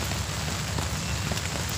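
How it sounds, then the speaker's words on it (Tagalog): Heavy storm-like rain falls outside, a dense, loud, unbroken patter and hiss of drops hitting surfaces, with no voices. "Sobrang lakas ng ulan niya"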